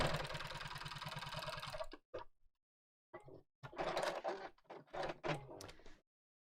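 A sewing machine stitches a quarter-inch seam through a long fabric strip placed right sides together with the raw edges aligned. It runs steadily for about two seconds, then stops, followed by scattered short handling and fabric noises.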